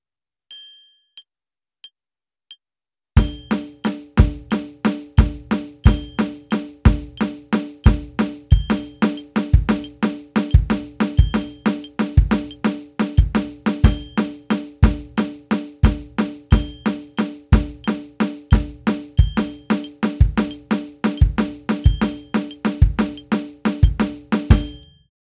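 A drum kit plays broken fills over a displaced kick pattern, with a few sparse clicks first and then a busy, steady run of sharp cymbal and drum hits with 16th-note upbeats, loud and close for over twenty seconds.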